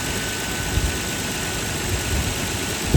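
Nissan Y33 Cima with a VQ30DET engine idling after an alternator replacement, a steady, even hum that is close and continuous, with no talk.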